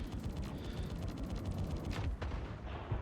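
A missile launches at a Cutty ship in the space game Star Citizen, a dense roaring burst of engine and weapon noise with a sharp whoosh near the end, loud and continuous.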